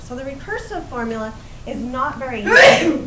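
A sneeze bursts out sharply at the end, following a voice speaking steadily close up.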